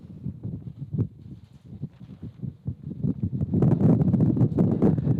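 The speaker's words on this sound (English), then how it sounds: "And here comes another massive gust." A massive gust of wind sweeps across a baseball field, buffeting the microphone with rough rumbling bursts that build and grow louder and more sustained toward the end.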